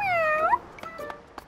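A cartoon cat in an animated children's show meows loudly and close up with a long, falling cry, then a few fainter, shorter mews follow before another loud call at the end.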